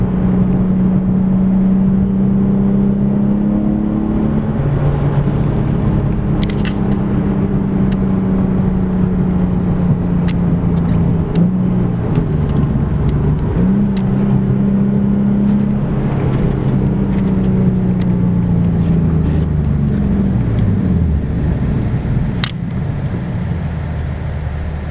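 A Nissan 370Z sports car engine rumbles steadily as it drives, its pitch rising and falling with gear changes, loud and close throughout.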